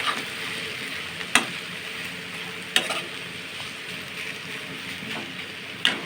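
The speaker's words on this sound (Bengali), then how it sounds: "এবার ভালো করে নাড়াচাড়া করে নামিয়ে নেব।" Cabbage and prawn curry seasoned with garam masala is stirred in a pan over a soft, steady sizzle. A few sharp spatula scrapes stand out at intervals, and no one speaks.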